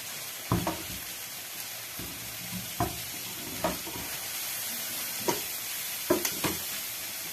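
Cabbage tossed into a hot pan and stirred, with a continuous sizzle of frying broken by several sharp spatula scrapes and knocks against the pan at irregular intervals, close by with no talking.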